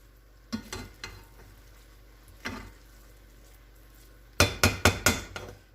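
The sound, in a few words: moving garlic and onion rice around in a pan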